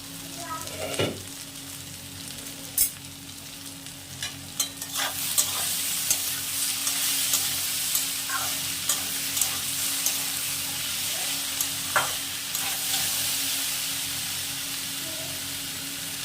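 Cauliflower stems and mixed winter vegetables fry quietly in a pan, a soft continuous sizzle under repeated sharp clicks and scrapes of a spoon stirring against the metal, with no talking.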